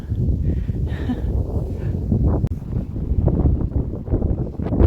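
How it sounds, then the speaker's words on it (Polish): Strong wind buffets the microphone in a constant low rumble, with gusty fluctuations throughout and no other clear sounds. "Martwię się trochę, że ten wiatr będzie Wam przeszkadzał w odbiorze."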